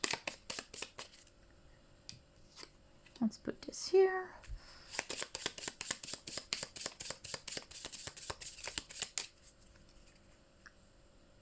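Playing cards being shuffled during a solo game of Marvel Champions, a quick run of riffling flicks at close range, preceded by a brief spoken remark.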